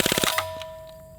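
A BB gun fires a fast full-auto burst at a pop can: five or six rapid sharp pops in quick succession, then a metallic ring of the can that fades away, close and loud.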